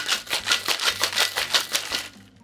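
Brief cocktail shake: about nine quick, evenly spaced rattles of ice in a shaker, crisp and close, stopping after a couple of seconds.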